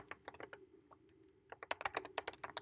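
A password being tapped out on a computer keyboard, a quick run of close, crisp key clicks that starts sparse and builds to a denser burst near the end, with nobody speaking.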